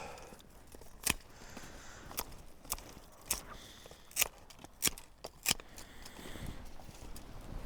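Pruning shears cut through thornless blackberry canes with several sharp, scattered snips over a faint outdoor background, and no talking.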